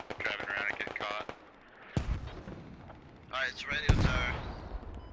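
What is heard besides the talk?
mortar and artillery fire in video game Squad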